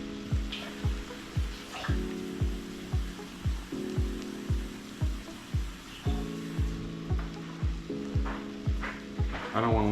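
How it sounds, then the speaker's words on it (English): Tomato sauce for chicken parmesan sizzles in a hot pan with a steady frying hiss, under a regular series of soft thumps and a humming hood fan, with no talk. "Let's go ahead and dump our sauce in there."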